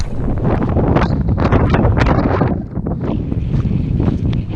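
Strong, gusty wind blows through the San Bernardino Mountains on a hiking trail during a wind advisory, a loud continuous roar buffeting the microphone with steady rushing surges and no voices.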